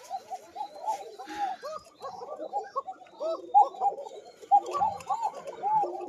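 Koka pigeons coo in thin, high, closely spaced calls, with several birds overlapping in a continuous, rippling chorus close by.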